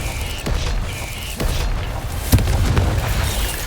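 Booming blasts of the Confringo explosion spell in Hogwarts Legacy, a few loud impacts with rumbling tails over steady game ambience, one sharper hit standing out near the end.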